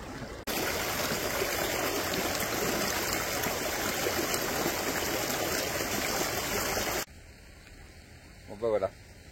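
Cold stream water pouring during an outdoor shower on the GR 96 hiking trail, a loud steady rushing hiss that stops abruptly, followed by quieter ambience and a brief splash.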